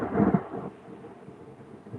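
Thunder from a lightning storm during a power outage, a loud low rumbling crack that peaks at once, then fades into a softer rolling growl under faint rain.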